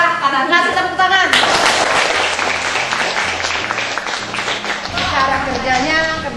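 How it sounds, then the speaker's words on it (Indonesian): Applause from a classroom audience after a biology lesson presentation, the clapping swelling in quickly and carrying on steadily, with voices and a bit of music-like tone mixed underneath. "Kasih tepuk tangan."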